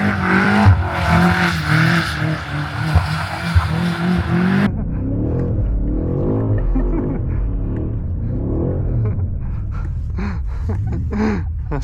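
BMW M8 Competition drifting in rear-wheel drive on snowy Toronto roads at night: a loud, roaring engine for the first few seconds, then a steadier muffled rumble heard from inside the cabin.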